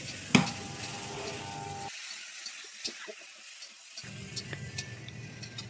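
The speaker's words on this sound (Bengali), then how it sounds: "এটাকে ঢাকনা দিয়ে হালকা করে প্রথমে একটু ভেজে ভেজে নিতে হবে" Food frying lightly under a lid in a pan gives a steady soft sizzle with a sharp clatter near the start, a quieter stretch in the middle, then a few small ticks and pops, close by, no talking.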